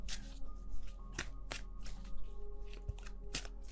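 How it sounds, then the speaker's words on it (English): Tarot cards being shuffled, handled and laid down on a table during a reading, with close, repeated soft card-shuffling riffles and light taps and slaps spread over the stretch, no talking. "let's put down the other cards"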